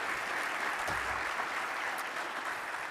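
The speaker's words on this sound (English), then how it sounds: "Let's give Staff Sergeant Felix a round of applause" A conference audience at an Army symposium claps for an honoree in a continuous, even round of applause. It is moderately quiet and has no voices over it.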